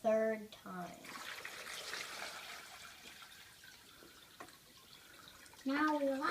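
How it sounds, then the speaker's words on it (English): Dirty water is poured a third time through a homemade water filter in a kids' science project, making a steady splashing trickle for several seconds, with a voice heard briefly before and after. "Now we are going to pour it in the third time."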